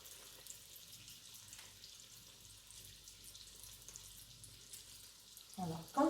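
Steady, soft hiss of choux pastry dough frying in oil in a small pan, low and continuous, with a louder splash-like bump near the end.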